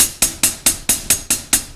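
Drums play slow, evenly spaced 16th notes with the hi-hat filling in, about nine crisp hits in under two seconds, each with a sharp attack and short decay, close and alone.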